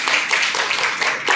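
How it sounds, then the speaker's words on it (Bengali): Grade 8 classroom students clapping together for a classmate: a brief, dense patter of many hands, fairly loud and close, lasting just over a second. "ওর জন্য একটা হাততালি দাও"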